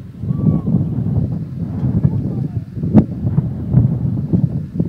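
Gusty wind buffets the microphone at an outdoor women's juvenile 3 kg shot put competition, a continuous low rumble that swells and dips in gusts, with faint background voices.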